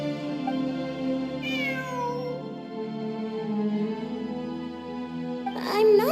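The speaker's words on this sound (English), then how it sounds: "I'm not hearing things. It really is a cat." A cat meows in the video game Genshin Impact, with two distinct meows, one near the start and one near the end, heard over a sustained tonal game soundtrack.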